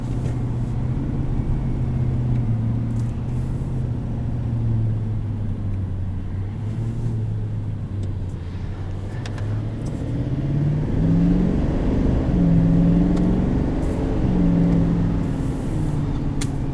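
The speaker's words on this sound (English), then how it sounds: "to really show off the exhaust brake, put into low and just downshift." A 2020 Chevrolet Silverado 2500 rumbles with its exhaust brake engaged while downshifting in low, a loud, deep engine drone that falls and then rises again in pitch across the gears.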